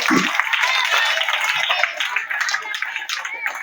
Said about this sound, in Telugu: ఒకసారి సార్కు ఆల్ ద బెస్ట్ చెప్తూ చప్పట్లు కొట్టాలి